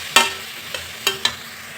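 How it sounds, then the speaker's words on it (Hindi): Masala frying in a pan on medium heat for a bean and potato curry, with four sharp scrapes and clinks of a spoon over a faint, steady sizzle. "आँच के कभी भी मीडियम रखम और मीडियम पे ही फ्राई करम"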